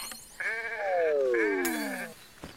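Two long, wavering sheep bleats from a video game, each with a falling tone, heard close and clear and alone, followed by a brief sharp click.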